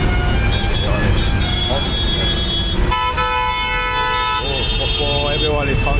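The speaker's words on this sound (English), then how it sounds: "Oh, everyone is honking." Vehicle horns honking in heavy traffic in India, several sustained and overlapping toots of different pitches, including a long blaring horn, over a steady engine and road rumble with talk in between.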